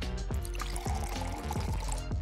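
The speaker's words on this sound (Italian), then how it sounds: "Aggiungi acqua bollente allo zenzero pelato." Boiling water is poured over peeled ginger in a cup, a close, continuous liquid pour with bubbly splashing and small plinking drops that carries on steadily throughout.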